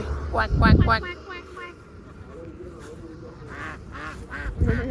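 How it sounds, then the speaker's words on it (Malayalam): Several ducks quack in nasal bursts near the end, while people talk loudly over the first second. "Hi quack quack താറാവുകളെ."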